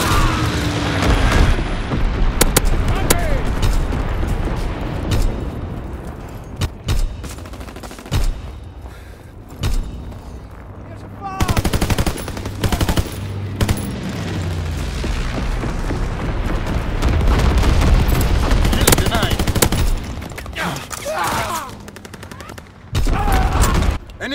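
Call of Duty: WWII battle noise with bomb blasts and rattling gunfire from a Fritz X bomb run and carpet bombing, loud and continuous with booming impacts throughout, under occasional game voice callouts.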